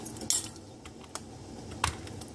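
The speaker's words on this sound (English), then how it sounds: "It's just okra, my mason jar, and now I'm adding my mustard seeds and the dill weed." Mustard seeds and dill weed tipped into a mason jar packed with okra, with no liquid yet, giving a few sharp, brief taps and a small rattle against the glass, close and fairly quiet.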